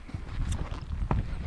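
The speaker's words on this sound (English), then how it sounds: "This Palomino horse is a quarter horse." Hooves of a Palomino quarter horse clip-clop at a walk on a mountain pack trip, a few irregular thuds close by over steady outdoor background noise.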